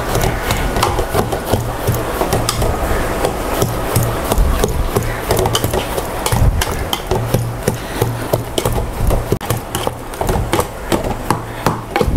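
A metal spatula chops and scrapes rapidly through bread halwa in a large pan, a continuous loud clatter of dense, irregular knocks with no talking.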